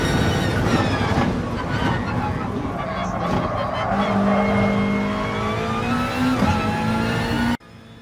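Race car engine in Gran Turismo Sport during an FIA Manufacturer's Series race: a loud, continuous high-revving engine whine with pitch shifts through gear changes, steady throughout and dropping out abruptly at the end.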